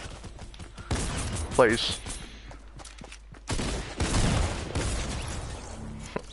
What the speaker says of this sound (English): Where are these random shots from, man?